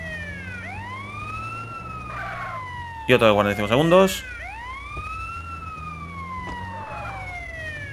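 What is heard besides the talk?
ambulance siren in video game GTA San Andreas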